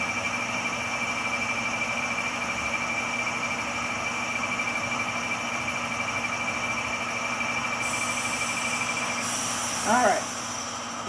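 Railroad cars being shoved during a switching move produce a low, continuous rumble with a steady hum, and a brief metallic clank sounds near the end.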